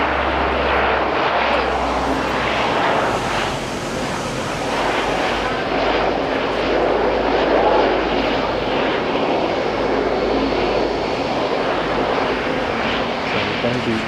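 A Q300 turboprop airliner at Auckland International Airport, a loud continuous engine and propeller roar that swells and eases slightly over the whole stretch, heard from fairly close with wind buffeting the microphone.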